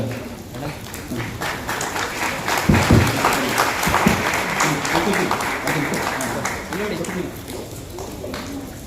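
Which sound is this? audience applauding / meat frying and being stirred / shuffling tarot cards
audience applauding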